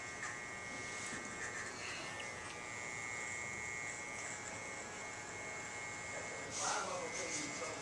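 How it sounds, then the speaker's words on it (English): An electric hair clipper hums and buzzes steadily as it is tilted around curves, close but quiet, with a voice talking faintly over it. "as I tilt the clipper, it makes it easier for me to get around these curves and hard to reach places"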